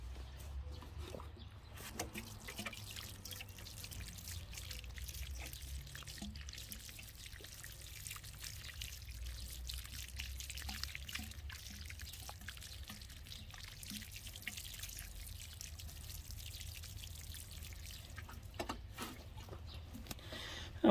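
Water pours and trickles steadily onto the soil of onion seedlings in a tray, a soft, continuous close stream lasting a long while, with occasional faint handling clicks and no talk.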